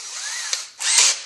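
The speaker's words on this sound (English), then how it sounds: "I'm going to drill through with that" Small power drill with a 1/16 inch bit boring through a transmission plug during a shift kit install, a steady high whine for about half a second, a brief pause, then a louder, harsher burst of drilling up close.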